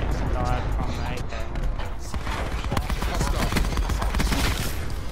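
Gunfire in Black Ops 4's Chaos Control mode: a continuous, loud barrage of overlapping shots and impacts filling the whole stretch, with no clear pauses between bursts.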